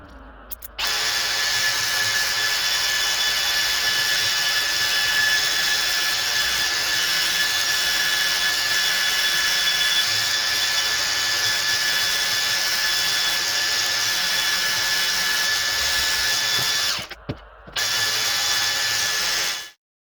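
A power drill clamped in a vise, its trigger held on with a cable tie, runs steadily for about sixteen seconds with a high, continuous whine, briefly cuts out near the end, then spins again before stopping.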